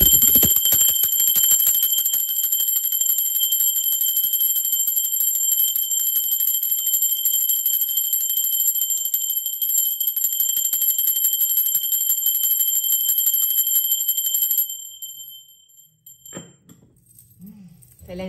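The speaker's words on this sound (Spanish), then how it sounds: "va campana y concéntrense, seres divinos" A bell rung to open a tarot reading gives a bright, sustained ring with clear overtones that holds steadily for about fourteen seconds, then cuts off, followed by a few faint soft noises.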